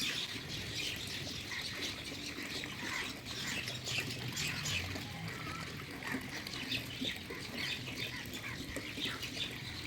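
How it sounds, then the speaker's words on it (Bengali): Birds calling and squawking outdoors in the evening, a busy mix of chirps and harsher squawks running continuously at moderate distance over steady background noise, with some water-like splashing texture. "আর বিকেলবেলা সব পাখিগুলো আকাশে উড়ে উড়ে বেড়াচ্ছে।"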